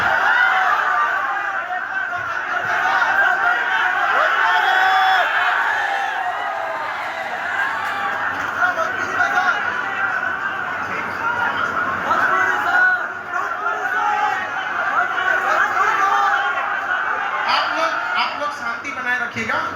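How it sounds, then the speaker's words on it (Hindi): A large, noisy crowd chatters and shouts at a KGS foundation-day gathering in Bihar. Dense, loud babble runs unbroken throughout, with overlapping voices, laughs and occasional whoops. "सर आप इतना भीड़ भाड़ हल्ला कर देंगे तो फिर सर कैसे बोलेंगे?"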